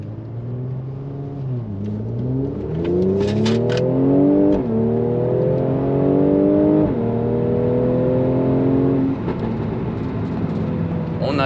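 Mercedes-AMG engine in Sport Plus mode with a sport exhaust, revving up and down in rising and falling sweeps, close and loud, with a few sharp pops near the end.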